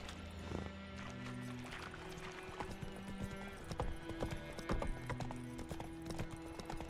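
Rhythmic clip-clop of the horse Roach's hooves in The Witcher 3 video game, steady trotting steps over game music, with a brief neigh-like sound and a few heavier footfalls near the end.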